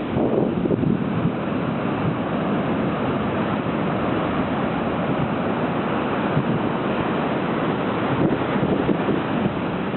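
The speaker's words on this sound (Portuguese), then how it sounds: "E o mar continua agitado." Rough sea surf pounding the beach at Praia do Cabo do Mundo in Matosinhos, Portugal: a loud, continuous wash of breaking waves with gusty wind buffeting the microphone, no voices.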